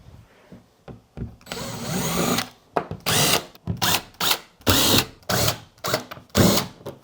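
A power drill whirs in a long burst, then in a series of short rhythmic pulses, close and loud, with ratcheting clicks between, as it pulls screws out of a wall.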